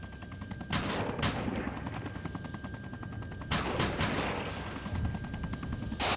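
Machine guns open up on a vehicle in a military video game: two loud, rapid bursts of gunfire separated by a few seconds, with engine or rotor rumble droning underneath.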